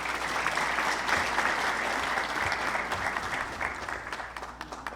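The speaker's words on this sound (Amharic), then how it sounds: "ሁላችሁንም ለራሳችሁ ሞቅ ባለ ጭብጨባ አመስግኑ" Sustained applause from a large audience at a celebration event in Los Angeles, a dense steady roar of clapping hands that holds for several seconds before thinning slightly toward the end.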